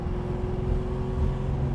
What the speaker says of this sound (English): It's got an awesome exhaust system on it.